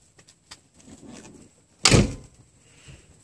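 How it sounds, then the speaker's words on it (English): Sliding side door of an old 1996 Mercury Villager minivan: a few light rattles and rolling, then one sharp loud thud as the door closes, alone and nearby. "I only have one sliding door because my car is old."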